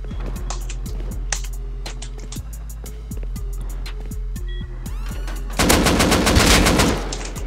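Rust video game gunfire rings out in rapid bursts of sharp shots, first spaced and rhythmic, then a dense, loud burst of automatic fire near the end, with no talk.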